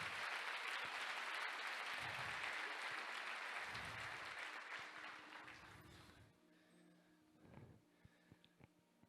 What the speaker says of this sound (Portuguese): Glorifica e dê um aplauso